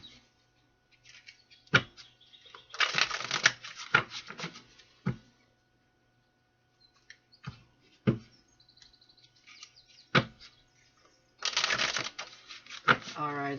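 A deck of tarot cards being shuffled in several short bursts of crisp riffling and flicking, separated by lighter taps and quiet pauses, recorded close.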